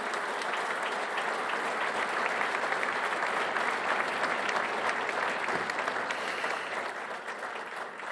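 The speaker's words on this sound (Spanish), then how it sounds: "quiero pedir un fuerte aplauso" A large crowd applauds continuously at a year-end speech in Argentina, a dense, even roar of clapping heard from a distance that holds throughout and fades slightly at the end.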